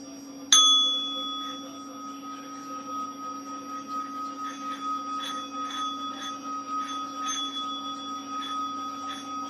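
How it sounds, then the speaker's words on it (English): A bell is struck once before an oracle reading and its bright metallic tone rings out, then sustains and slowly fades over a steady low hum, with faint soft taps. "I'm going to go ahead and do the bell."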